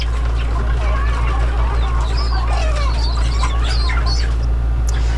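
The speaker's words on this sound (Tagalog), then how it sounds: "mga native chicken na kung tawagin sa atin ay yun po ay mga bisaya na mga manok" Native Bisaya chickens on a Philippine poultry farm, scattered squawks and clucks over a constant low hum, moderately close and overlapping.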